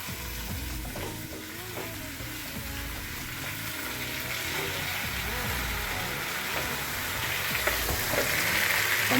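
Tomatoes sizzling and frying in a pan with roasted onions, a steady close crackle with occasional stirring scrapes throughout, plus a faint low rumble in the background.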